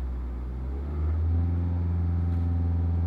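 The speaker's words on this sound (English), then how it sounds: "Rev it up a little." A customer's car engine being checked for erratic fuel trim idles with a low rumble, then revs up once to a louder, steady higher drone that holds to the end.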